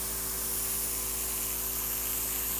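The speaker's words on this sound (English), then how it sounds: "make sure when you spray, make it a good coat" Steady continuous hiss of a spray can coating a henna stencil held against the skin, close and even throughout with no pauses.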